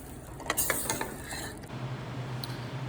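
Spinach being stirred into a pot of sweet potato chili, with a few scraping clanks of the spoon against the pot early on, then a soft steady low simmering hum.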